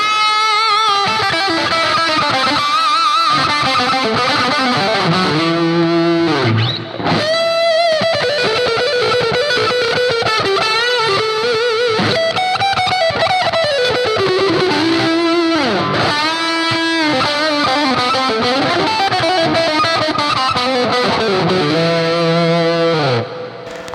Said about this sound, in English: we got to kick in the overdrive, or kick in the drive, the boost on the front end of the amp